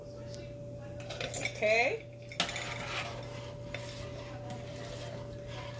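Cream being stirred into a pot of red pepper, corn and shrimp chowder: a few clinks and scrapes of a utensil against the pot near the start, followed by quieter stirring over a steady background hum, with a brief spoken word.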